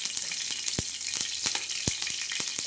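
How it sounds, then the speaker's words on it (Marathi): Curry leaves crackle and sizzle in hot oil on a tava for tempering, a close, steady frying hiss punctuated by sharp pops. "फोडणीला कढीपत्ता टाकणार आहोत"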